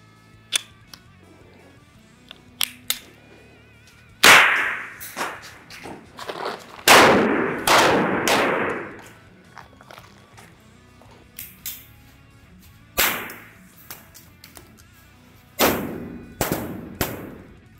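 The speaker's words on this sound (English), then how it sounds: "This is the M11 multi-bang." An M11 multi-bang flash bang grenade goes off in a series of loud, sharp bangs. The irregular cracks come in clusters separated by quiet gaps, some close together and some spread apart.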